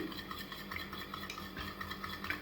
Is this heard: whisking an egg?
yes